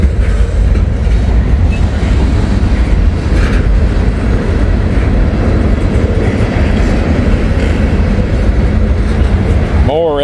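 Freight train cars, including empty slurry tank cars and ethanol loads, roll past close by in a loud, continuous rumble with faint clatter over the wheels, ending in a brief squeal.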